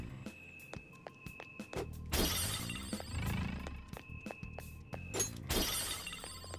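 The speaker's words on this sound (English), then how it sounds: "It's weird that it makes like a glass breaking sound for everything, even when it's like a wooden barrel." Glassy shattering crashes from smashing a wooden barrel in Persona 5 Royal, two big bursts among smaller clinks and thuds, loud and close against quiet game background.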